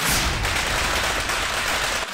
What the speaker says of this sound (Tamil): எவன்டா ஏன் வீட்டு முன்னாடி வந்து பட்டாசு வெடிக்கிறது